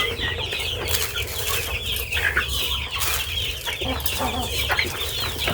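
A batch of large chickens clucking steadily and close by in a farm coop, overlapping calls forming a busy, continuous chorus with no talk over it.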